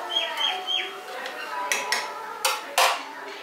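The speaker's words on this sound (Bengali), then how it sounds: "এবার জলটা দিয়ে ভালো করে মিশিয়ে দিলাম" A spoon stirs water into a pot of village-style paneer and green peas pulao, with clinks, scrapes and several sharp knocks against the metal and a faint voice in the background.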